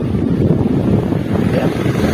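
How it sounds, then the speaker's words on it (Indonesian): A Sekai electric fan runs fast on its highest setting, speed 3. It makes a loud, steady whooshing roar that holds even throughout, with no voices. "putaran pada dinamo kipas angin Sky ini di sini sudah berputar sangat kencang, bagus, kencang, mantap"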